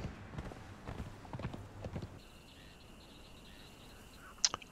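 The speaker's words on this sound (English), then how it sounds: "Let's get back on the horse and get back to base" In Conan Exiles, a horse's hooves clip-clop in a quick run of hollow knocks for about two seconds. Quiet ambient game sound follows, along with a faint tonal hum and one sharp click near the end.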